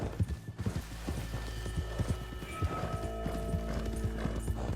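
Rapid, steady hoofbeats of a galloping horse in the video game Red Dead Redemption 2 clatter throughout, with a brief whinny and some mechanical clinking mixed in.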